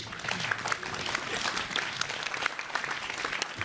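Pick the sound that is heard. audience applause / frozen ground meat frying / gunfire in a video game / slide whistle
audience applause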